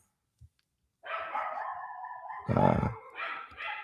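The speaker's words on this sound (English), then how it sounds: "sorry for the dogs barking" Dogs barking and howling nearby, a long drawn-out howl followed by a sharper, louder burst of barks and more yips, with a brief hesitant voice at the start.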